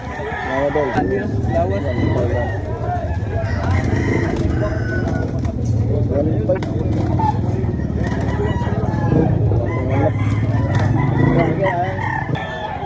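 Several roosters crow repeatedly at a poultry expo over a dense, noisy crowd of chatter and clucking, with birds calling close by and all around.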